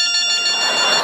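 A telephone rings in a comedy stage sketch, a loud, close, bright electronic buzzing tone pulsing rapidly through the whole short moment.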